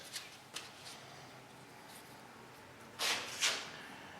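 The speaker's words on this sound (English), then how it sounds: "to glue these on, I'm just going to use one of these glue sticks" A glue stick is rubbed onto small paper pieces, producing a few faint scuffs early on, then two louder, close rubbing swipes near the end, with no voices.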